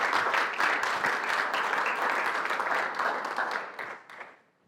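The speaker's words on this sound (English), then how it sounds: "Give her a round of applause now." A small gathering claps for a woman named Kate at an evening church meeting, a quick patter of many hands sustained for a few seconds before thinning out and fading away.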